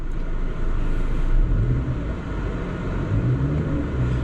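A turbocharged 1.4-liter Chevy Cruze engine runs with a steady low rumble close by, swelling slightly as the gas is pressed, with no talking.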